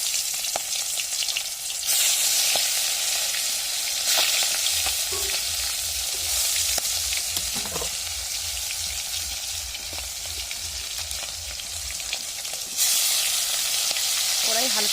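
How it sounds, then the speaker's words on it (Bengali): Fish hisses and sizzles steadily in hot oil with cumin in a kadai, a loud continuous fry with occasional stirring scrapes and no talking. "এবার দিচ্ছি মধ্যে মাছ।"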